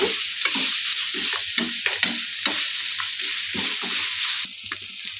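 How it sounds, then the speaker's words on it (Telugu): Ingredients for mango pulihora sizzle steadily in a hot pan, frying loudly and continuously while a utensil stirs and scrapes them in short repeated strokes. "ఇలాగా అన్నీ ఒక్కొక్కటి బాగా ఫ్రై చేసుకోవాలి"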